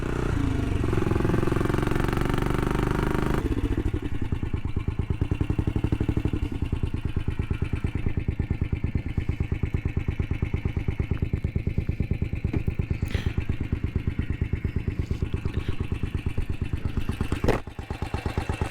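A 1970 BSA B44 single-cylinder motorcycle engine runs steadily and loud, close up, with a rapid even thumping beat throughout after an opening stretch of heavier revving, no talk over it.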